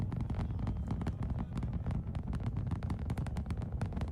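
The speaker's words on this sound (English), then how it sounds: "This is the actual noise of Super Heavy." SpaceX Super Heavy rocket launch captured on an iPhone 15, a continuous low rumbling roar with crackling bursts, distant and fairly quiet, buffeted like wind on the microphone, no talking.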